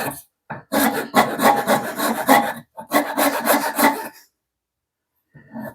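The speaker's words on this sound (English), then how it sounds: "This is a Shinto rasp" A Shinto rasp shapes a wooden hatchet handle in two bursts of close, coarse rasping strokes, each a quick series of scratchy rubs, followed by a pause and a brief final scrape.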